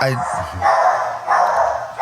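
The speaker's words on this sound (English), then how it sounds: "Yeah, that's my dog." A pet dog barks indoors in a couple of short, loud bursts that overlap with a voice during a casual conversation.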